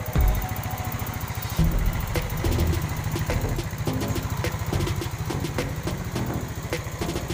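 A Yamaha Mio Sporty motorcycle engine idles steadily up close, its rapid, uneven putter running continuously with a slight rev near the start.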